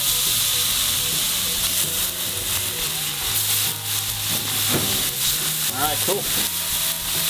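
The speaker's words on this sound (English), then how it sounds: "We're going on the griddle, so here we go. Just popping them on." Flank steaks sizzling on a hot griddle, a loud sustained frying hiss with crackle, while someone speaks briefly over it.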